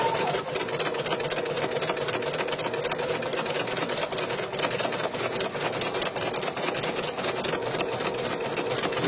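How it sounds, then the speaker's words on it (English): A home embroidery machine stitches a basting line around its hoop frame while making a K9 hero pillow, with a steady, fast mechanical whir and rapid needle chatter running continuously at an even level throughout. "it's going to run a basting stitch around the frame"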